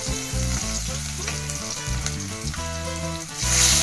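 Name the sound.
chopped tomatoes frying in pan for tomato chaaru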